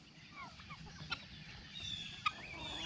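Chickens softly cluck and murmur in a backyard while papaya seeds are handed out, a low continuous chatter with a couple of sharper brief calls, fairly quiet and close.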